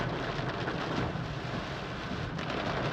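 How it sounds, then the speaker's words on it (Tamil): Heavy rain pours steadily in a Wayanad forest on the way to Tholpetty, with low rumbling thunder rolling underneath; a dense, continuous wash of noise with no talking. "அப்பா இடிச்சு எடுக்குதுங்க மழை."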